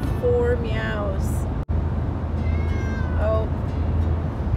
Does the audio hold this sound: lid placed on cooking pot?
no